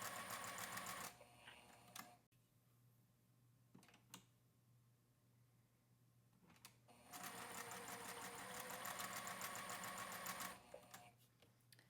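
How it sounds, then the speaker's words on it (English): A domestic sewing machine joins quilt fabric pieces for a table runner in two bursts of fast, even stitching chatter, with a quiet stretch between them broken by a few soft clicks and a low hum. "I'm going to put the corner up here by the needle and sew across"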